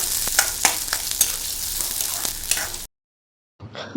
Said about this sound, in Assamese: এতিয়া মই পিঁয়াজখিনি অকণমান ৰঙচুৱা হোৱাকৈ